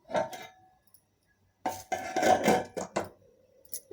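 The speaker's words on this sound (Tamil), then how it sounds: "இப்போ மூடி போட்டு வச்சிடலாங்க" A metal pressure cooker lid is set on the pot, giving a short clatter, a pause, then a cluster of clanking and scraping metal contacts up close.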